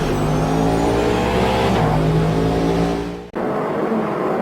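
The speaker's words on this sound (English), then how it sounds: "you've got the perfect sound of the LMDH cars as you pull out of the pits" An LMDH race car engine in the racing game Automobilista 2 roars at high revs, sustained and loud, then cuts abruptly before surging back, a harsh mechanical whine with no talking.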